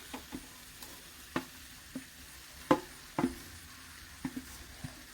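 Onion and coconut pieces fry quietly in a pan for a chicken thoran, a soft low sizzle broken by scattered sharp scrapes and taps of stirring.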